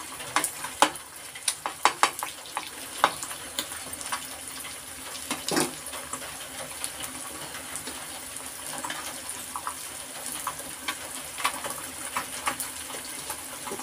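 Egg frying in a pan for egg rice, a steady soft sizzle with scattered crackles and scraping clicks of stirring, close by and without voices.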